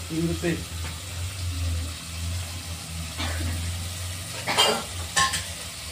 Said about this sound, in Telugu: ఫస్ట్ ఆయిల్లో ఫ్రై చేసేయాలి బాగా